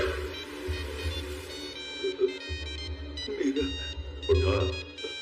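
A phone ringtone plays a steady electronic melody of bright repeating tones, with a low rumbling hum and faint murmuring in the background.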